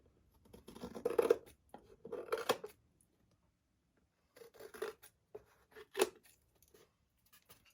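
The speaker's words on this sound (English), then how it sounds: "I'm just going to take my scissors and I'm just going to go around and trim the edges." Scissors snip paper edges in short bursts of cutting, pausing between runs, with crisp close-up blade sounds and no talking.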